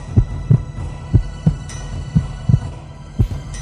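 Heartbeat sound effect in a suspenseful Hindi audio story: a steady series of about ten deep, thudding low beats in a quick, even rhythm, close and alone with a faint hum beneath.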